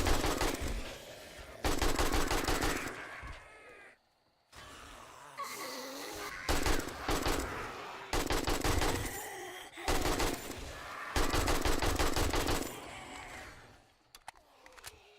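Gunfire in the survival game 7 Days to Die comes in long rapid automatic bursts, loud and repeated, with short pauses and a few quieter gaps between volleys.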